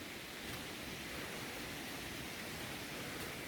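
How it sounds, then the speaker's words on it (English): Waterfall along a coastal walk between Bucksmills and Clovelly, a steady broadband rush of falling water that fills the whole stretch evenly, moderately loud with no talking. "Oh, there's a waterfall here."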